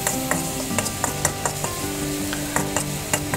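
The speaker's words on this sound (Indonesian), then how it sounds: "boleh kita aduk-aduk sebentar hingga bawang putih dan bawang merah itu layu dan wanginya itu keluar" Garlic and shallots being stir-fried in a pan, a steady sizzle punctuated by sharp rhythmic scrapes and clacks of the spatula, close and clear with no talking.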